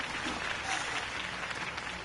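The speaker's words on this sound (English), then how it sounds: "could have heard that applause" A crowd applauds after a campaign speech in a video game, a steady wash of clapping with a voice speaking over it.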